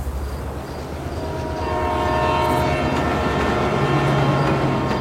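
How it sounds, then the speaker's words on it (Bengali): Passenger train pulling into a station as an audio-drama effect, a low rumbling roll that swells and grows louder, with a sustained horn tone toward the end, no voices. "উল্টো দিকের প্যাসেঞ্জার ট্রেন এসে দাঁড়াল"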